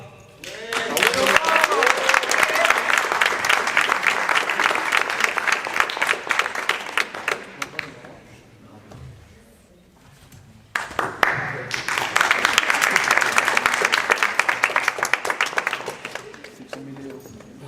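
An audience at a school eloquence contest claps loudly and continuously for a speaker. The applause dies away briefly, then swells again in a second long burst, with a voice speaking over the lull.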